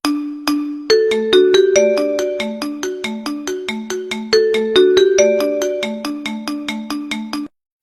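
A Huawei mobile phone ringtone plays a bright, plucked melodic pattern of quick repeated notes, loud and clear for about seven seconds before stopping abruptly.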